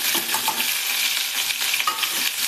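Finely chopped ginger and garlic fry with cumin in a pot for whole masoor dal, a dense, loud, continuous sizzle with light stirring, and no voices.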